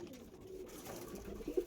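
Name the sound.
pigeons cooing in a loft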